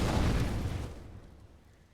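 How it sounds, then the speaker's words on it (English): A grenade explodes in Counter-Strike on the Inferno map at a professional esports match, a single loud, heavy boom that rolls away and fades over about two seconds. "Nades coming through in towards Logs."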